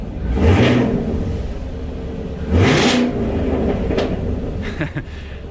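A 2024 Chevrolet Camaro with LT1 V8 engine revving in short bursts, two strong pulls a couple of seconds apart, with a steady idle rumble between them, close by in a garage.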